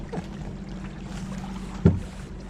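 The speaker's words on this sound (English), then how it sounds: "a dual engine rowboat" A rowboat driven by two trolling motors runs across open water near Hoover Dam, giving a steady low hum and wash of water with one sharp knock partway through, and no voices.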